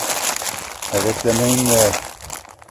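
Plastic bags being turned inside out crinkle and rustle up close at a home mushroom-growing setup, crackling in bursts while someone speaks over part of it.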